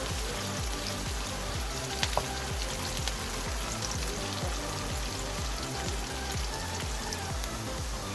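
Onions sizzle steadily in a frying pan, cooked only to a pink shade for a ridged gourd (turai) curry, with a constant close crackle and no talking.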